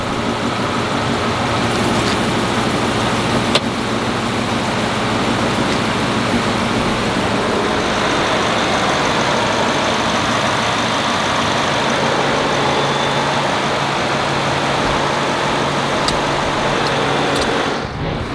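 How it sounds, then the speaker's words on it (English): A 2021 Ford Ranger Raptor engine idles in a steady, low rumble that holds evenly and loudly throughout, with no voices. "Now see, this is what the engine is supposed to sound like."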